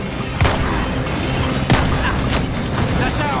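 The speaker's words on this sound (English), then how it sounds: "Hey, careful who you're shooting at." Gunshots in Red Dead Redemption 2, two loud, close cracks roughly a second apart over a steady bed of ambient noise, with a voice speaking nearby between the shots.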